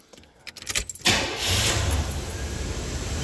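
Keys jingle close by before a car engine cranks and catches, then settles into a smooth, steady idle that runs loud and even to the end, with no talking.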